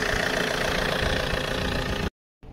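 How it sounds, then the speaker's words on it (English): A Vauxhall Insignia 2.0 diesel engine idles with a steady, close mechanical clatter and hum, then cuts out abruptly for a moment before the sound resumes at the end. "So the car is running."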